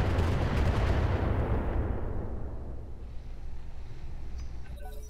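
A video game SRM turret in Roguetech BattleTech lets off a heavy rumbling barrage of blasts that roll and fade into a low decaying boom, loud at first and trailing off.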